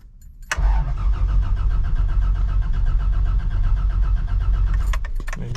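A Toyota FJ engine cold-starts with a sharp crank burst, then settles into a loud, steady, rumbling idle that continues unbroken to the end.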